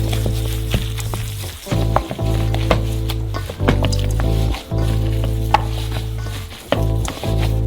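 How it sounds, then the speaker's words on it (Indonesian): Hands kneading a minced meat filling seasoned with freshly ground chili and salt, wet squishing and slapping in a steady rhythm with brief pauses, loud and close, no talk. "Uleni isian dengan baik menggunakan tangan Anda"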